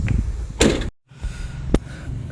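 The rear door of a 2009 Toyota Rush is swung shut, a single solid thump followed by a brief silence and then a sharper latch click.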